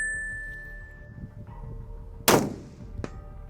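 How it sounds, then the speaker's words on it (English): A single sharp rifle shot from a Tikka T3x Compact fired at a 200-yard range, loud and close with a brief echo tail, then a faint clack afterward. "we're going to have Dominic shoot his first shot"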